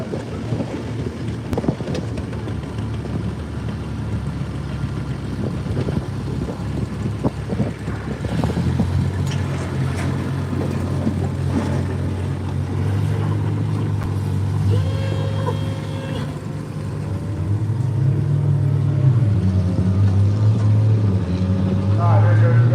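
Antique tractor engine roaring steadily at a county fair tractor pull, a continuous low rumble that grows louder and deeper over the run, with crowd noise and commentary voices over it.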